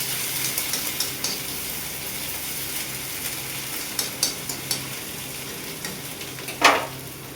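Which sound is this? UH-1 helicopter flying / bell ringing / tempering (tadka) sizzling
tempering (tadka) sizzling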